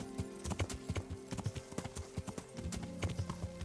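Horse hooves clip-clop in a steady, brisk rhythm in Kingdom Come Deliverance, the sharp knocks close and even, with a faint jingle of tack behind them.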